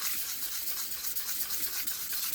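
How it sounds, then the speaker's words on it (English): A small distributor washer is rubbed across sandpaper laid on a flat surface, producing a steady close-up scratchy grinding with quick back-and-forth strokes, heard on its own without talk. "You just take your sandpaper,"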